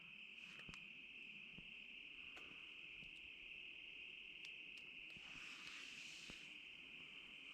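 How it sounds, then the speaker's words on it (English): Crickets chirp in a dense, steady high trill at night, loud and continuous with a few faint clicks, no voices. "now it's crickets like crazy"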